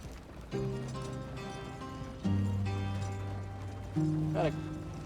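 Horse hooves clip-clop in Red Dead Redemption 2, a steady trotting beat under game music and someone talking, with a brief whinny near the end.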